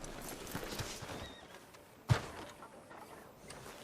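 Horse hooves clip-clop in the Western video game Red Dead Redemption 2, soft and fairly faint, with one sharp louder knock midway.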